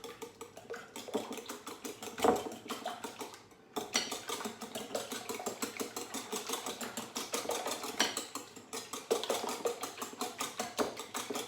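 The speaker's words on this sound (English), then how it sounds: "give it a little whisk. So I want to incorporate all of the eggs into the cream" A whisk beats eggs into cream in a bowl, a quick, steady metallic clatter with a short pause partway through, close and fairly quiet.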